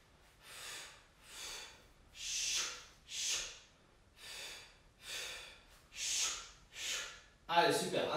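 Breathing during a fat-burning fitness workout: about eight loud, forceful exhales in a steady rhythm, each roughly a second long and separated by short pauses, close to the microphone.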